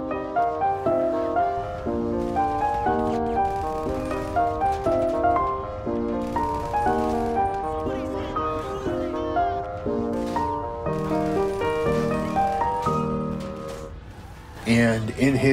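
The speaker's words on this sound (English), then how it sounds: "the progression is articulated through bassoon arpeggios, and that sounds like this" Orchestral passage from Mozart's Piano Concerto No. 24 with bassoon arpeggios outlining the 50s chord progression, steady repeating note patterns under sustained strings, ending with a louder swell.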